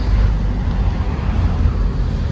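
Strong wind blasting across the microphone outdoors, a dense, rumbling low roar that runs continuously throughout.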